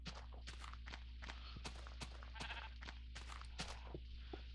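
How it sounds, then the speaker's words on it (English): Sheep bleat in a fantasy video game, several short bleats in quick succession, close and clear over soft footsteps and a steady low ambient hum. "Hey, sheepy, what are you doing here?"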